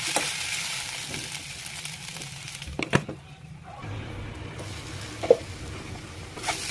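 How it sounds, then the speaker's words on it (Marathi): Sabudana khichdi cooking in a covered pan, giving a steady soft sizzle and frying hiss with a few brief clinks and taps, heard close and alone without talk. "झाकण ठेवून व्यवस्थित खिचडी शिजवून घ्यायची आहे"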